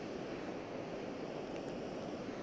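A continuous heavy roar from the Hukou Waterfall in winter, water pouring over the cliff edge in a thick, unbroken rush that is loud and nearby, with nothing else standing out.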